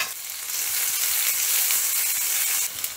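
Two small lengthwise-sliced onions fry in masala over a high flame, making a loud, steady sizzle that holds evenly and tapers off slightly at the end.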